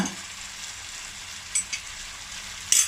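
Green chili and curry leaves frying in a pan for spicy chicken pasta, a close steady sizzle with a few sharper crackles and stirring scrapes, no talk.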